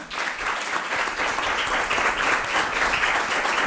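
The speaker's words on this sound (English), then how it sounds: "give our panelists a huge round of applause right now" A conference audience applauds panelists after a discussion on militant Islamism and jihadism, a dense, steady roar of many hands clapping at once.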